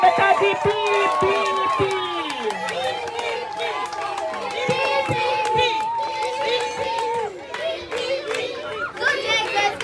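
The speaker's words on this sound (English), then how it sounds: "Anna, round of applause for the PPP." Schoolchildren at an academy party clap and cheer for a winning party, a lively mix of high-pitched shouts, chatter and scattered claps, with voices near and overlapping.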